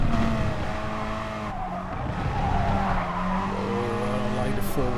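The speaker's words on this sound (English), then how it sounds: "Four-wheel slide. Pushing a little bit for grip." Racing car tires skidding through a four-wheel slide in a racing video game on medium tires, a sustained engine drone with tire scrub running steadily for several seconds, fairly loud and continuous.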